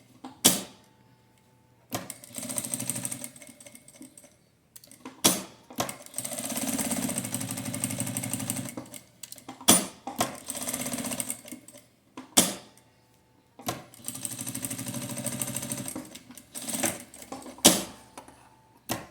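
A sewing machine stitches a fabric phone holder in short bursts: several runs of fast, close mechanical rattling, separated by pauses with sharp clicks and knocks as the work is repositioned.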